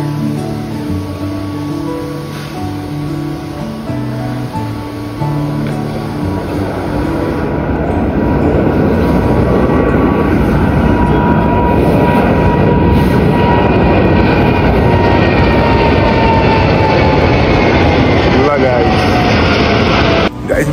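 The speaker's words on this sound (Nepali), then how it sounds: "10 मिनट त प्लेन टेक अफ हुन आँटेको छ" An airplane takes off with a loud, broad engine roar that builds over about seven seconds, then holds steady and powerful until the end.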